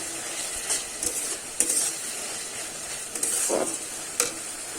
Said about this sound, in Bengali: এবারে কিন্তু কেটে রাখা টমেটোটা দিয়ে দেব, দিয়ে আবার একটু নেড়ে চেড়ে নেব।